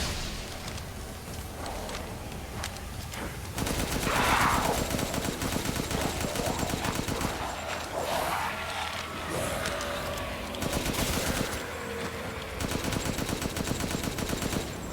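Sustained bursts of rapid gunfire in the Resident Evil 8 video game, dense repeated shots filling the scene with short pauses between volleys, loud and close throughout.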